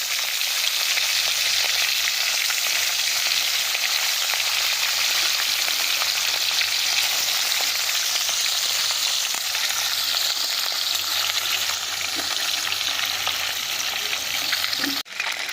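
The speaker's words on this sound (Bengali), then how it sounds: "এবার আমরা মাছগুলোকে দিয়ে খুব ভালোভাবে ভাজা করে নিচ্ছি।" Fish fries in hot mustard oil in a wok for a fish curry, giving a loud, unbroken sizzle that holds steady for a long stretch, with a brief clatter at the end.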